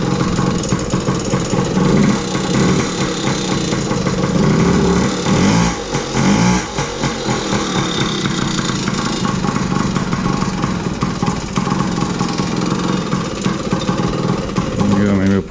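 A 2000 Yamaha PW50 dirt bike engine runs steadily after a kick start, a loud close two-stroke buzz that holds throughout while someone talks over it.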